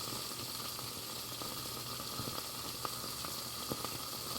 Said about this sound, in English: I don't know if you can hear that water boiling away